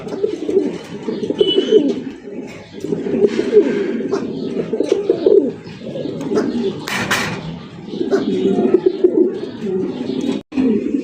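Pigeons coo steadily in low, throaty, rolling calls, close and continuous, with some scattered rustling and a brief noisy burst partway through.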